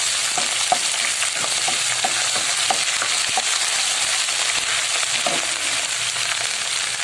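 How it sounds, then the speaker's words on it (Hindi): Steady, loud sizzling of garlic and ginger frying in a hot pan, with occasional soft clicks of stirring, continuous throughout. "इसको डाल के हम थोड़ा सा फ्राई करेंगे।"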